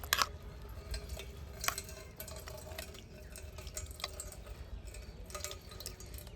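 Liquid from ground corn, being made into homemade cornflour, trickles and drips through a strainer, a soft continuous patter with small splashes, close and fairly quiet, without speech.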